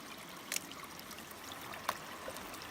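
Shallow creek water flowing over black sand and gravel, a soft continuous trickling rush with a couple of brief splashy clicks, close and fairly quiet, no voices.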